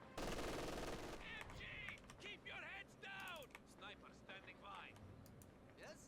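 Game gunfire from Company of Heroes 2 on the Belgorod map: a loud burst of rapid shots opens the clip, then clustered battle noise and sharp effects continue beneath a commentator's voice.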